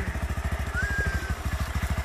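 A motorcycle engine idles close by with a fast, steady rhythmic chugging pulse during a beginner's riding lesson, and a brief whistle-like tone rises above it midway.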